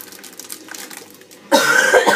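A single loud, close cough bursts out after a quieter stretch of faint background noise, followed by a rough, breathy tail.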